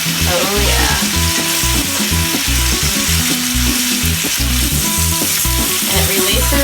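A grass-fed steak sears loudly in a hot cast iron skillet, a dense crackling sizzle with scraping and clinks as it is flipped, no talking.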